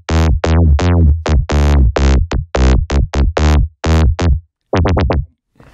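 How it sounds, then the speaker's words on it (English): A synth patch built in Phase Plant plays the Seinfeld theme melody, a run of punchy, plucky, slap-bass-like notes in a bouncy syncopated rhythm, loud and alone, with a brief pause before a quick final flurry. "So that one is obviously the melody from Seinfeld"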